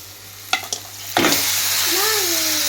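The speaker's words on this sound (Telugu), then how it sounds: "నూడిల్స్ వేసేసి మిక్స్ చేద్దాం" Noodles dropped into a hot pan and stirred, a couple of quick clacks followed by a loud, steady sizzle close by, with a faint voice briefly under it.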